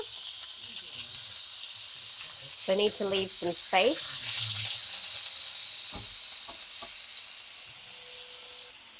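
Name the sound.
beef browning in a pan for beef bourguignon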